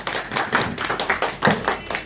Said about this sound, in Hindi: सभी आदमी ताली बजाकर पुनः स्वागत करें